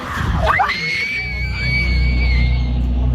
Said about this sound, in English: a blood-curdling scream is caught on camera, sending the girls running in full terror